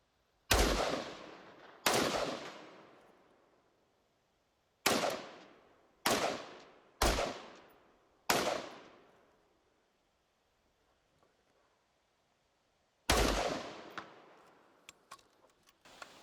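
Daewoo DR200 rifle firing 55 grain ammunition: seven loud, sharp single shots spaced irregularly with short decaying echoes, followed by faint clicks near the end.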